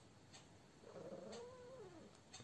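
A house cat gives one drawn-out, wavering meow, faint and fairly distant, over a steady background hiss with a few soft ticks.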